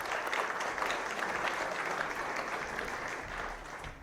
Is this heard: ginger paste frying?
no